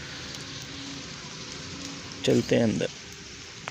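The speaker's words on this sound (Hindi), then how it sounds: "बाहर तो बहुत ज़्यादा बारिश हो रही है" Heavy rain falls steadily outside, a continuous hiss from start to finish, with a person speaking briefly near the end.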